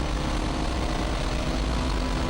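A 2008 Le Mans Series Audi diesel race car engine roars in a loud, steady, low-heavy drone throughout, with no clear break or change in pitch.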